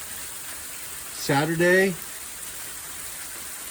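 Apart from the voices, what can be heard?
hail falling outside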